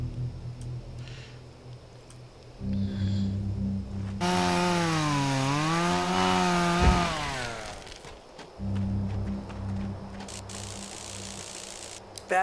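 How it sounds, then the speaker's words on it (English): A chainsaw in the video game ObsCure 2 revs up with a loud, sustained buzzing whine whose pitch rises and dips for several seconds, then cuts off. Quieter game ambience and clatter surround it. "So we got the chainsaw."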